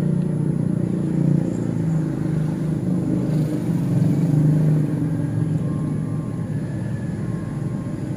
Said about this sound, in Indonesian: Jalan juga rame, kelihatan dari saya tuh kan banyak mobil-mobil ada lewat.